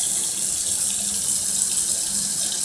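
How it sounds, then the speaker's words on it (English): Water from a tap runs steadily and splashes into a bathroom sink, a continuous close hiss and patter with no talk over it. "Oop, I splashed water."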